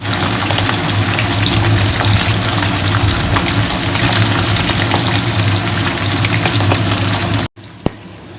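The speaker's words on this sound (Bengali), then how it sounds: "মাছ ভাজা চলছে" Fish sizzles steadily and loudly in hot oil, a dense, constant frying hiss with no talking, ending abruptly.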